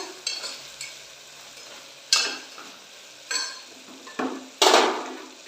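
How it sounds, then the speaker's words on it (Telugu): Vegetable pieces stirred in a frying pan make several sharp scraping sweeps spaced a second or so apart over a soft continuous sizzle, with the last stroke the loudest. "ఇందులో ఇప్పుడు అట్టికాయ ముక్కలు వేసేసుకుంటా"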